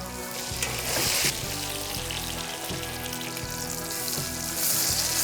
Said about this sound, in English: add a little bit of butter and sear it until it has a beautiful crust